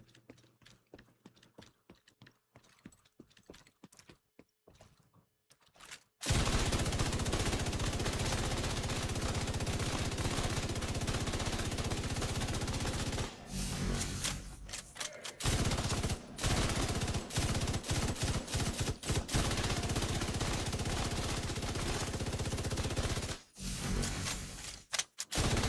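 Big Alejandro machine gun in The Division 2 firing at a boosted rate, a loud, dense sustained burst that kicks in after quieter clicking and runs nearly continuously, with brief pauses between long streams of rapid shots.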